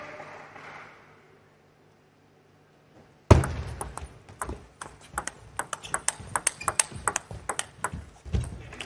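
Table tennis rally between Sun Yingsha and Chen Szu-Yu in a World Team Championships semifinal, sharp repeated ball strikes and bounces in quickening rhythm after a loud opening crack, arena ambience behind.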